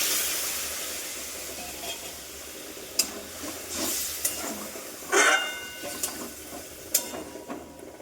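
Water poured into a hot pan of potatoes gives a soft, continuous hiss with scattered sharp sizzles and crackling pops, fairly quiet and close.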